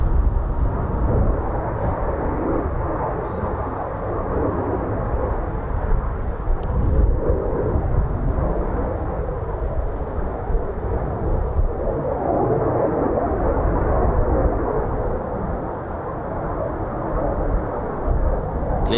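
A Eurofighter Typhoon FGR4 fighter jet at the RAF Coningsby air show gives off a loud, continuous jet roar that holds steady for the full stretch, with no voices over it.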